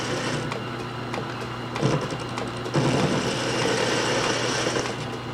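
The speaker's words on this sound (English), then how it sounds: "we're going to begin by cutting the bolt head down" A power tool cuts down a bolt head during a belt disc sander restoration, giving a steady mechanical whine with a low hum that swells into rougher, louder grinding bursts partway through.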